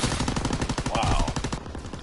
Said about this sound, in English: I shot them boys a lot of times.